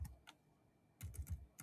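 Computer keyboard typing during a Windows firewall configuration, a few quiet isolated key taps followed by a quick burst of several keystrokes, close and alone.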